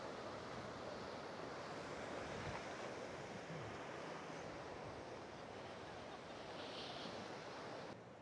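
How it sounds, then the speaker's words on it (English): Ocean waves crash against the rocky coastline near Portland, Maine, a continuous loud roar of surf mixed with wind buffeting the microphone, with no voices. "Waves are crashing."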